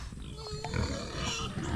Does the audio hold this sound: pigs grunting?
yes